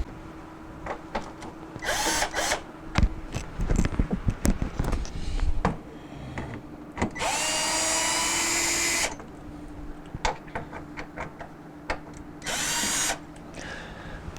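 A power drill with a 1/4 inch driver whirs in several bursts, some short and one sustained for about a second, while removing the freezer door screws of a Maytag bottom-freezer refrigerator, alongside clicks and handling noises.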